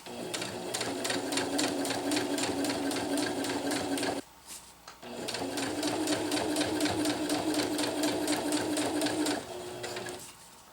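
A sewing machine stitches a zipper onto hammock fabric in two long, steady runs, close and loud, split by a short pause near the middle.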